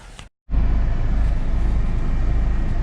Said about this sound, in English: got the blower motor working